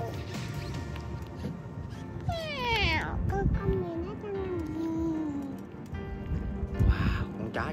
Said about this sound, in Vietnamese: con mèo đang nằm nghỉ